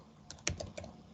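A few quiet, distinct keystrokes are tapped on a computer keyboard while a query is entered into a search filter. The brief, irregular clicks are close and soft, with no talk over them.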